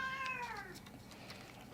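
A cat gives a single clear close meow, rising then falling, followed by quiet room noise.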